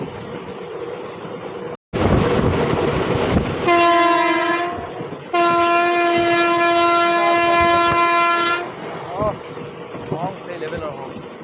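Katwa–Ahmadpur passenger train with LHB coaches sounds two loud, sustained horn blasts, the second longer, over rumbling rail noise, with a brief quieter gap before the horns.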